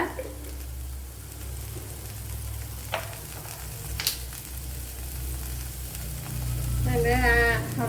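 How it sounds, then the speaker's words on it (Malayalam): Fenugreek seeds sizzle in hot oil in a pan, making a steady, close frying hiss with a few sharp pops, while a voice speaks briefly toward the end. "ഇവിടെ ഓയിൽ ഒഴിച്ചു കൊടുത്തിട്ടുണ്ട് അതിലേക്ക് ഇനി ഉലുവ ഇട്ട് കൊടുക്കുക"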